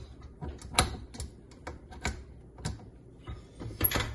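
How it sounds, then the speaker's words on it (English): A whisk attachment is fitted onto a stand mixer, producing a few sparse, close metallic clicks and clacks spread over a few seconds, with quiet gaps between them and no talking. "I'm gonna attach the whisk attachment."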